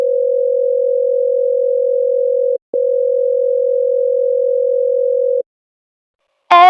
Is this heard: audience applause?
no